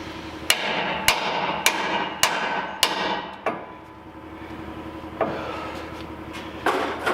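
Sledgehammer blows strike a truck's steel ball joint on a Chevy Silverado/GMC Sierra front suspension: six sharp metallic clanks in a steady rhythm, then a pause and a couple of softer later knocks, close and loud with no talking.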